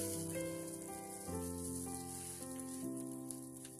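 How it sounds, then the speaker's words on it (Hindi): A methi paratha cooks on a hot tawa griddle, giving a soft, steady sizzle that runs under louder background music with sustained tones. "अब हम दूसरा पराठा भी तवे पे डाल देंगे।"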